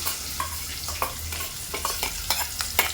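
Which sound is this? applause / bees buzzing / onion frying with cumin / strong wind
onion frying with cumin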